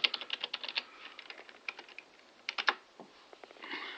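Typing on a laptop computer keyboard: quick, irregular clusters of crisp key clicks close up, with brief pauses between bursts and no talking.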